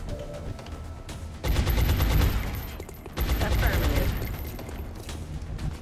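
Soldiers in the XCOM tactical game firing in two loud bursts of dense, rattling gunfire, each lasting over a second, with a quieter ambient stretch before and between.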